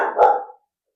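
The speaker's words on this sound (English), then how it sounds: "My grand dog is having a conniption" A single sharp bark from a dog rings out close by and fades within about half a second, then silence.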